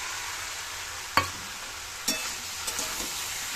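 Ginger garlic paste frying with vegetables in a pan, with a steady hiss of sizzling broken by a few sharp scraping stirs of a spoon against the pan.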